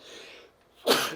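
A single sharp sneeze from a person, close and loud, bursting out after a brief quiet breath.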